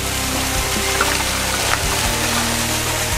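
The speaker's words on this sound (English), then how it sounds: "Came across these waterfalls here." Waterfalls along a snowy, wet stretch of Shoup Bay Trail give a steady, broadband rush of falling water, holding even and continuous from start to finish with no voices.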